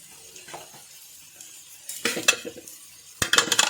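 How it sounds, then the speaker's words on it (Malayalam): Noodles seasoned with chaat masala and salt are stirred in a pan, the metal utensil scraping and clinking in short bursts against soft frying sizzle, the clatter growing louder and busier toward the end. "ഇതൊന്ന് നമുക്ക് നന്നായിട്ട് മിക്സ് ചെയ്തെടുക്കാം."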